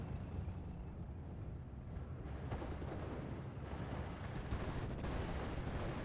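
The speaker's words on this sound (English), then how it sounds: "my Panzer Grenadiers are being suppressed by that artillery" Artillery and mortar fire in the WWII strategy game Steel Division: Normandy 44, set around Caumont-l'Évent in Normandy, rumbles as a dense, continuous wash of distant booms and crackling blasts that stays at a steady level with no talking.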